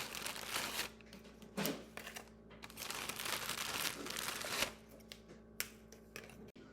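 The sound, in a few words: graham crackers being broken in half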